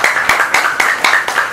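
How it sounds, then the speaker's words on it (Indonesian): An audience at a PASJ community talk event claps in quick, even bursts about four per second, fairly close and with no voices over it. "tepuk tangannya paling meriah untuk Anda semuanya"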